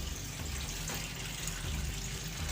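Water flowing steadily onto a plate, the oil collector of a catfish drying setup, a faint continuous tap-like splashing and trickling with no speech.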